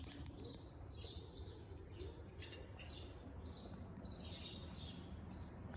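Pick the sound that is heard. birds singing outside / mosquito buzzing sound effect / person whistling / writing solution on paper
birds singing outside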